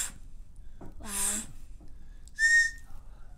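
Two short, thin whistles from a person, one wavering and one a brief steady tone, separated by quiet with faint breathy sounds.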